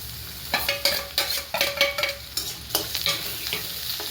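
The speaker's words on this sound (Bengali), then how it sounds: "এটাকেও বেশ কিছুক্ষণ আমরা ভাজবো, বেশ 1 মিনিটের মতো একটু নাড়াচাড়া করে ভাজবো।" Grated ginger and chopped garlic fry with softened onions in a pan, a steady sizzle broken by a regular series of scraping stirs from a spatula, close and clear with no talking.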